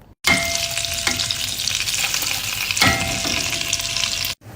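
Leeks sizzle steadily in butter in a saucepan, a loud, continuous frying hiss close up with a couple of faint stirring clinks and no voices.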